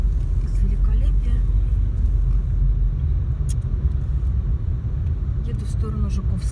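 Car driving along a road, a steady loud low rumble of engine and tyres continuing throughout with faint scattered clicks on top.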